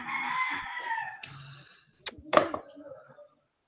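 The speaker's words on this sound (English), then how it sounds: "I wish those roosters would go back to sleep or something. Like, Jesus Christ, you're noisy this morning." Roosters crow in the morning at a seaside spot, with one long crow followed by a pause and then sharper, louder crow bursts near the end, fairly close.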